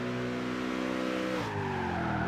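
A muscle car in a racing video game brakes hard, its steady engine drone giving way to a falling pitch and a sustained tire squeal, close and without voices.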